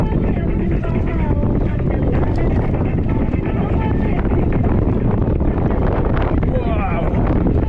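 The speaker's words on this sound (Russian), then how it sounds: "Да, ветер." Wind on the Crimean coast roars and buffets a microphone in a loud, continuous gusting rumble, with faint voices mixed in underneath.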